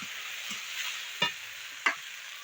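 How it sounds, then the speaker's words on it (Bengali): Chopped tomato and ginger paste fry in hot oil with whole cumin and cinnamon, giving a steady bright hiss and two sharp spoon clinks against the pan, close and without talk. "আর এর মধ্যে আমি টমেটো কুচি আর আদার যে পেস্ট করে রেখেছিলাম সেটা দিয়ে দিলাম।"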